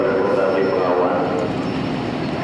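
Malabar passenger train at Kebumen station, a continuous loud rumble of rail cars and engine noise close by, steady throughout with a voice talking over it.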